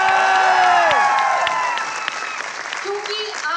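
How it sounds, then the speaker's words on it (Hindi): Loud, sustained audience applause at a corporate HR recognition event, with a dense wash of clapping and tonal background sounds throughout, easing slightly toward the end. "जोरदार तालियां आपकी"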